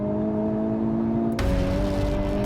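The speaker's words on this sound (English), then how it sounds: "increases this synthetic engine noise" Synthetic engine noise piped into a 320-horsepower car's cabin rises in pitch as the car accelerates, a steady tonal drone that thickens into a fuller roar halfway through, with no talking.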